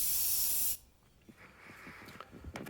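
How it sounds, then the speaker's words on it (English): Loud, steady spray hiss from a can of satin paint coating a cracked, repaired plastic grill of a Kubota G4200 garden tractor, cutting off abruptly after under a second, followed by faint handling clicks and rustles. "It's hard to do it without just over spraying"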